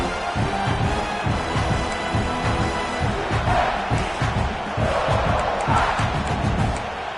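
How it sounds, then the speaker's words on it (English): Simulated stadium crowd in a college football video game, South Carolina vs Georgia, roars continuously with swelling cheers and chanting, loud and unbroken throughout. "This crowd going to try to make life miserable for these guys."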